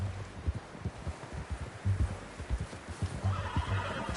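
A horse in the video game Red Dead Redemption 2 whinnies loudly, mixed with repeated clip-clopping hoofbeats at an uneven trotting rhythm, up close and with no speech.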